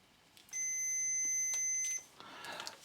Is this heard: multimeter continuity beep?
yes